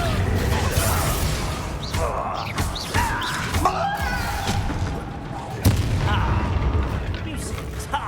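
Confringo blasting spell in the video game Hogwarts Legacy, several booming explosive impacts and whooshing magic bursts amid ongoing combat noise, loud and close.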